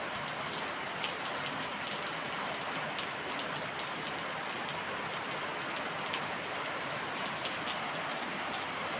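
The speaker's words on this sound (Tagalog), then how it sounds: "Umuulan ngayon. Oh. It's rainy day." Rain falls steadily as a dense, constant hiss of drops on surfaces with faint scattered patters, unbroken throughout and with no voices.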